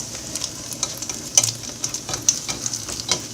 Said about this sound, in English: I spread out the egg matzah mixture among the onions